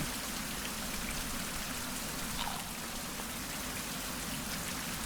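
Steady rain falling in a tropical island survival game, a constant, even hiss of drops with no breaks and no speech over it.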